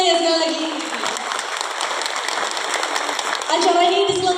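A crowd at a 2024 Vesak celebration at Kampung Coklat in Blitar applauds in a sustained burst of clapping. Amplified sound with steady tones runs alongside, and the sound swells again near the end.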